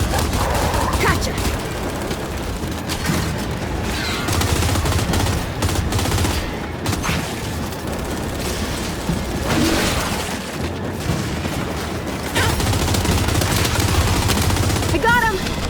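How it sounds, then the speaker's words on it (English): Enemy turret gunfire in Gears of War 5 rattles in sustained, loud automatic bursts with booming hits, dense and continuous. Players' shouting voices can be heard over the shooting. "That turret's ripping us up!"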